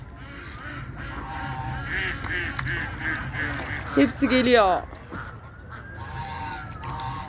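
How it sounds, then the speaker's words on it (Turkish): Geese honk a few times close by over steady outdoor background, while a person speaks briefly in another language. "Kazlar geldi."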